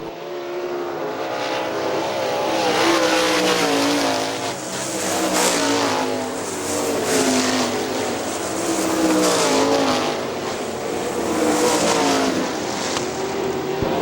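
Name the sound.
sprint cars racing on dirt track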